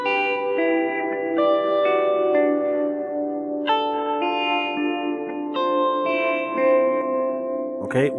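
A sustained synth-like tone with stacked harmonic layers, processed through a reverb plugin into a wide, wet stereo signal, holding steady for about eight seconds with a few pitch shifts and a brief noisy burst at the end.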